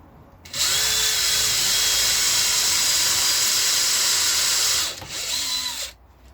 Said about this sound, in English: I want to drill a pilot hole so my screws will go in easy.